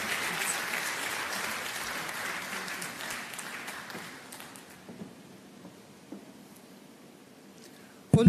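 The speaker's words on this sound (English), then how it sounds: "Please let us welcome Professor Okonedo with a round of applause" A university lecture-hall audience at an inaugural lecture claps in a dense round of applause that gradually thins and fades to near quiet with a few scattered claps, before a sudden loud thump at the very end.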